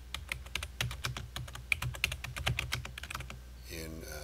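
Rapid typing on a computer keyboard while entering data in Excel 2007, a steady run of close, crisp key clicks lasting about four seconds, with a voice speaking briefly near the end.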